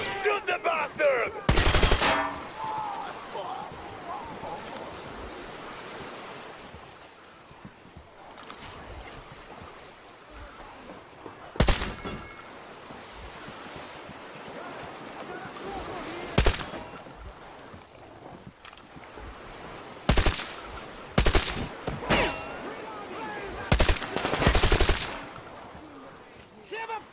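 Gunfire in the video game Metro Exodus, with loud broadband shots fired in short bursts and singles across a noisy battle soundscape.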